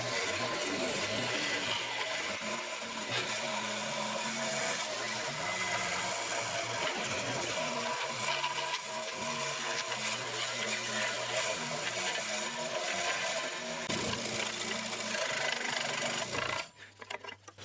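A saw cuts through wood at an angle of about 13 degrees, a continuous dense rasping stroke that stays loud and even for most of the time before stopping abruptly near the end.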